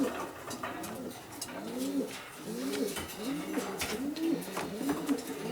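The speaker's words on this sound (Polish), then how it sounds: "Tu jest znowu syn Messiego razy samiczka z gołębi od Arka Dudka." Pigeons coo in repeated soft, throaty rolling phrases, close by, with a steady low rustle in the background.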